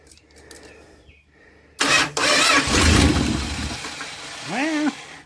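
A junkyard 1977 Dodge RV's 360 engine cranks over after a few clicks and catches, then runs roughly at a loud, close idle with a brief rev near the end, no speech.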